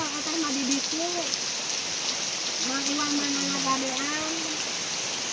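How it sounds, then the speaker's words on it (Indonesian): Heavy rain pours steadily on a village home, a dense continuous hiss filling the background while people talk over it. "Hujannya sangat deras sekali teman-teman"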